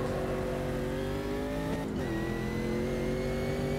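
A Porsche Cayman GT4 race car's engine drones steadily in the sim racing game Automobilista 2, its pitch climbing in long harmonic sweeps, dipping sharply at a gear change near the middle, then rising again, loud and continuous with no talk.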